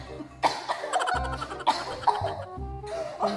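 A person coughs several times in quick succession, harsh bursts close to the listener with short pauses between them.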